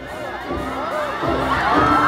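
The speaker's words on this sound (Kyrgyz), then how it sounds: "Жашылга кол чаап коюңуздар" A large crowd claps and cheers at a big public event, with shouting voices and applause building steadily and staying loud throughout.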